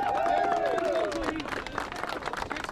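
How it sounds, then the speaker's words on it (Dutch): Crowd applause for new catamaran record holders after the Round Texel race in 2009, scattered clapping and cheering under a loud announcer's voice that dominates throughout. "Groot applaus voor de nieuwe recordhouders."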